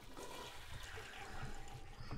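A toilet flushes in The Sims video game, a steady rushing gurgle of water that fills the whole moment at moderate level with no talking over it.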